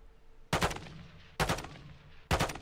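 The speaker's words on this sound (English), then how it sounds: "Can you try to fire the not suppressed weapon?" An unsuppressed weapon in the Call of Duty DMZ game fires three loud, sharp bursts spaced roughly a second apart, each a quick rattle of shots that decays into a brief echo, with no talk over them.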